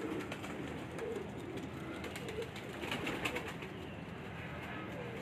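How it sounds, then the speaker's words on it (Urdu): Soft, low cooing of Ali-wala pigeons close by, a few rounded calls over a quiet background with faint chirps. "یہ ماشاء اللہ جی میاں امتیاز بھائی کے علی والا کبوتر ماشاء اللہ"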